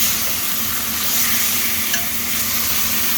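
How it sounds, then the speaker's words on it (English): Chopped garlic sizzles steadily in a pot with browned beef for a beef pot roast, a close, continuous frying hiss under slow stirring, with no voices. "Stir it around a little bit."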